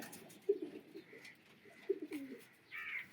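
A pigeon, a large-bodied parrot-coloured male bird, gives soft low cooing calls in two short bursts, close by, with faint higher chirps from other birds behind.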